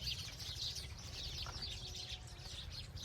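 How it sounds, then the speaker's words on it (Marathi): Faint, busy chirping of sparrows, many overlapping tweets in a continuous chatter at a distance, over a low background rumble. "चिमण्यांचा किलबिलाट चालू आहे."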